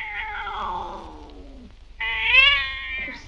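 A cat meows loudly and drawn-out twice, a long falling yowl then a sharper rising cry, while its ears are being pulled in an indoor film scene, with no speech over it.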